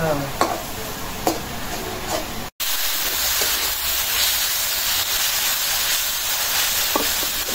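Leafy greens cooking in a pot while being stirred, with a loud continuous steamy hiss and sizzle, a few scraping knocks, and a brief cut to silence partway through.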